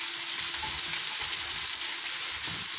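Peeled, finely chopped zucchini sizzles steadily in a pan as it sautés for an olive oil dish, with soft scraping stirs heard close up throughout.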